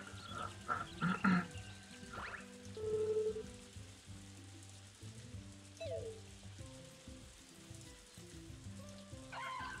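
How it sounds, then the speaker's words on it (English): Steady patter of rain in the video game Story of Seasons: A Wonderful Life, with soft musical tones and occasional chimes layered over the constant drizzle. "it's raining."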